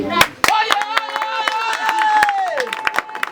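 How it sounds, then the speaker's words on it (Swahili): Audience applause at a ludo competition event, a burst of dense handclapping with sharp individual claps throughout, close and loud, while a voice speaks and sings over it. "Ampiga makofi"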